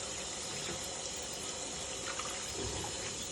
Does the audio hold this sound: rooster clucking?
no